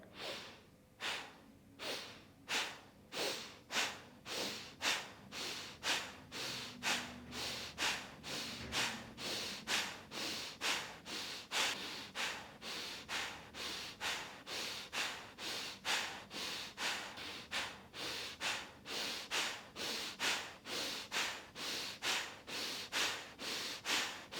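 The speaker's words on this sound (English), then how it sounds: "we'll start by exhaling all of our air out. And then short," Rhythmic breathing exercise: a long run of quick, sharp breaths in and out, evenly paced and close, repeating steadily for the whole stretch with no talking.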